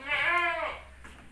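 A Saanen dairy goat gives a single clear, wavering bleat lasting about half a second, close and fairly loud, followed by quiet.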